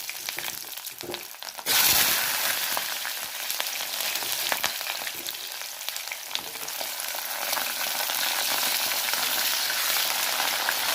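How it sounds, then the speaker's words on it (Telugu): Vegetable pieces dropped into boiling oil, with a sharp burst of sizzling that then holds as a steady, dense crackle close by, no one talking. "ఈ నూనె మరిగింది. ఇప్పుడు ఈ ములంకాళ్ళు వేయించుకోవాలి."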